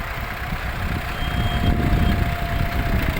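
An MTZ-50 tractor's original low-revving engine idles steadily up close, a continuous low rumble with a faint high whine and no voices.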